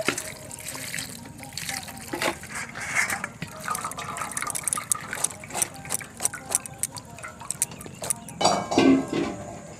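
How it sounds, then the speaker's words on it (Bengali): Cold water poured from a tap over boiled pasta in a perforated colander, a steady running-water splash with occasional light clinks, close and fairly loud throughout. "ওপর থেকে একটু ঠান্ডা জল দিয়ে দিচ্ছি"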